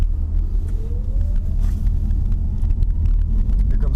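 A car engine rumbles low and steady through a J-turn in a parking lot, driven well short of full throttle, with a faint rising tone and some wind noise over the microphone.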